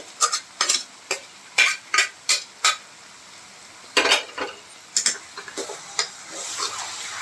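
Boiled pasta stirred into sauce in a metal pan, a spoon scraping and clinking against the sides in quick rhythmic strokes, close and crisp, with a faint sizzle underneath.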